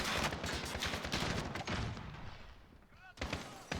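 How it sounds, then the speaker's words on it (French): Heavy gunfire in Call of Duty: Modern Warfare, dense rapid bursts of shots and thuds layered close and loud, dropping briefly before resuming. "là ça tire comme des malades"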